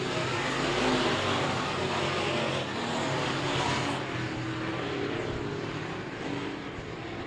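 USRA B-Mod race cars roaring around a speedway at Monett Motor Speedway, a dense continuous engine drone with rising and fading passes, loud and sustained with no clear voices.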